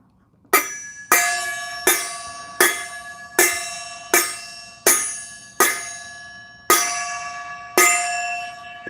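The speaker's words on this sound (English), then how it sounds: "That's 10 rings of the bell, 1 ring of the bell for each 10 thumbs up." A handheld bell struck ten times in a steady series, each clear metallic ring sharp at onset and decaying before the next, loud and close with no talking.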